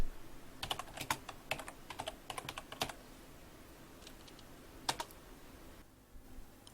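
Typing on a computer keyboard while entering a budget spreadsheet: bursts of close, crisp key clicks in quick irregular runs, with pauses between, over a quiet room hum.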